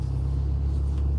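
Low, steady engine rumble of a Toyota car idling in traffic nearby, a deep throbbing drone filling the short moment with no talk.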